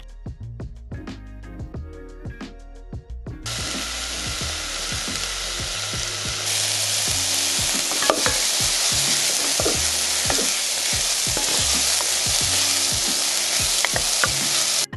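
Chopped onion sizzles in a hot pan as a steady frying hiss, starting quieter then jumping louder, with rhythmic knife taps of garlic mincing on a wooden board throughout.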